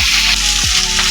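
Vegetables for a tangra fish curry sizzling in hot oil in a pan, a loud, steady, close hiss of frying throughout with a brief stirring scrape partway through.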